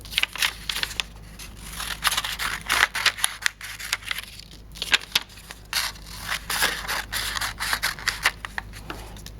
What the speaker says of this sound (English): I'm going to use my scissors, and I'm going to cut my stars vertically first.